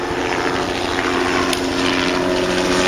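A helicopter passes overhead at an outdoor LiberTEA Fest rally in Illinois, a loud continuous rotor and engine drone with steady tonal hum that stays close and constant for the whole stretch, no speech.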